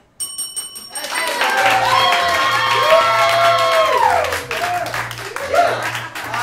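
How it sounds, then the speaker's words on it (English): An improv show audience cheering and applauding from the back row, a loud sustained swell of whoops and claps with a sharp ringing tone at the start and some talk in the room. "There's a lot of back row cheering there."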